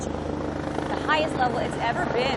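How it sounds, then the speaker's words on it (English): A Texas National Guard helicopter flies over a flooded river near an international bridge on the border, its rotor thumping steadily at moderate distance beneath a reporter's talk. "what you hear right now is a chopper from, it looks like the Texas National Guard"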